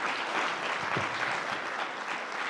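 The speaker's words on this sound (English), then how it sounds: "Let's give a round of applause to our Chancellor, John King." A crowd at a SUNY Polytechnic Institute event applauds in an even, dense roar of clapping that fills the whole moment, with only faint voices beneath.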